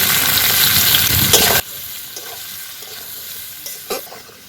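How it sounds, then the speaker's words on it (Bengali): Fried cauliflower with salt, turmeric and red chili powder being sautéed in a pan, a loud dense sizzle that drops sharply after a second and a half to a softer simmer with occasional stirring knocks. "আমি ভালো করে কষিয়ে নেব।"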